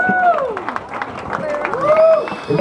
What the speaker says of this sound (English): a round of applause for the bride and groom